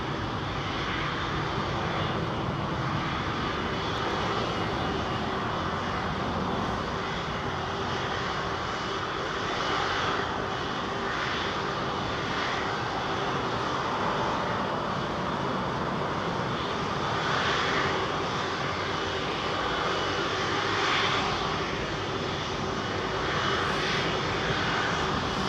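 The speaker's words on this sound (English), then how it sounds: "Loves a bit of 330 noise. This is another CEO with Trent 700s bolted to her." An Airbus A330ceo airliner with Rolls-Royce Trent 700 engines at London Heathrow gives off a steady, even engine drone that holds at moderate loudness throughout, heard at some distance with no voices.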